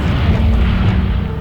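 Incendio fire spell cast in Hogwarts Legacy, a loud, close, continuous roaring rumble with a heavy low-end whoosh lasting just over a second.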